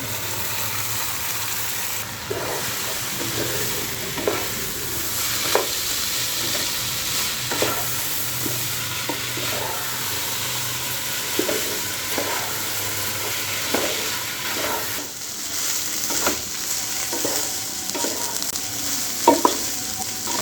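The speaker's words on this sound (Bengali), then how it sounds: "মশলা সাথে আমি চালগুলো খুব সুন্দর করে নাড়িয়ে কষিয়ে নিয়েছি" Rice, washed mung and red lentils stir-fried with spices for khichuri, a continuous close sizzle with frequent scraping stirs of a spoon against the pot.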